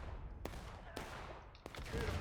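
Gunfire in the War of Rights video game during a public match at Crossley Creek: a few sharp musket shots crack at irregular intervals over a dense rumbling battle din, one heavier burst near the end.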